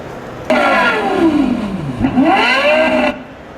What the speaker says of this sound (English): Marty, let's fire this bad boy up.